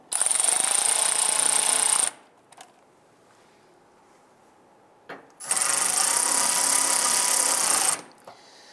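A power tool drives screws into a catalytic converter on a 2002–2008 Dodge Ram 1500, two sustained high whirring bursts about two seconds each separated by a quiet pause with faint clicks.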